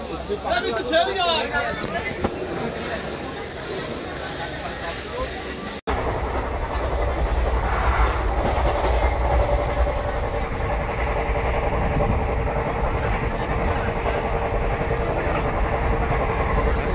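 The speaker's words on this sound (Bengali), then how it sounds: "আমরা ট্রেনে উঠব" The Kalka Mail passenger train runs on the rails with a steady rolling rumble and a rhythmic clatter. People talk over it, and a brief cut breaks the sound partway through before the ride noise resumes.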